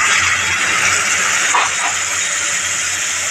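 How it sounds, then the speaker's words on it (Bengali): Loud, steady hissing sizzle of a small splash of water hitting fried chopped onions in a hot pan, a continuous broadband roar lasting throughout with a brief flare midway. "পেঁয়াজটা ভাজা হয়ে গেছে। এখন এর মধ্যে অল্প একটু পানি দিব,"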